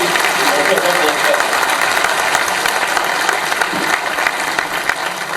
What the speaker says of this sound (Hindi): ताली वाली बजाओ तो महाराष्ट्र के लोगों ने बजाओ